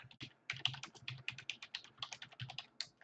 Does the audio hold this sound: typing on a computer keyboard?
yes